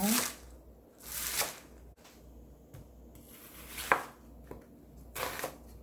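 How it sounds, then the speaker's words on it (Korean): A knife chops a handful of green onions for quick kimchi, giving a few soft, spaced cutting strokes and thuds on a board, fairly quiet and close. "쪽파 한줌 썰어주세요."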